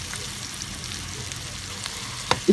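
Capsicum and potato pieces fry in a pan with a steady, close sizzle, ending in a couple of brief stirring knocks.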